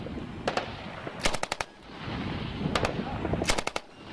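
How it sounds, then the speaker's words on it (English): An MG3 machine gun fires several short bursts at its slow cyclic rate, each burst a quick string of sharp, distinct reports, separated by quieter gaps of background noise. "it's a slow rate of fire. MG3 is like that."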